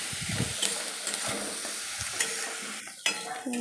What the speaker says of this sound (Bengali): এবার ভালো করে পেঁয়াজটাকে একদম ভাজা ভাজা করে নেব